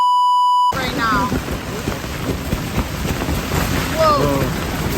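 Strong storm wind roars steadily through a forest during a tornado-bearing storm in Algonquin Park, with gusts rising and falling and birds calling faintly in the background.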